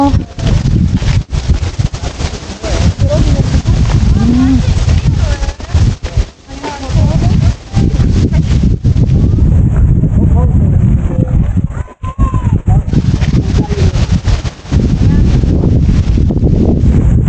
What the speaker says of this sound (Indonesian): Tapi karena ini berangin